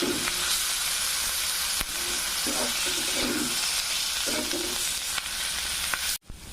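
Taro stolons fry with onion paste and chili powder in a pan, giving a loud, continuous sizzle with occasional stirring scrapes, heard up close with no talk.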